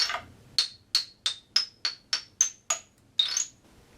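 A Thai xylophone is struck ten times in a fairly even rhythm. Each bright, ringing wooden note decays quickly, recorded close and clear with no other sounds.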